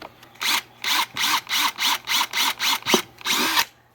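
A power drill bores into dirt in short repeated bursts, about nine evenly spaced whirring pulses with brief pauses between, close and loud, ending in a slightly longer final burst.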